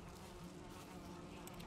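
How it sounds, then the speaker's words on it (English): Bees buzzing in the Valheim video game, a steady, low droning hum that holds evenly throughout, faint and continuous with no talk over it. "Oh, that's the bees, bro."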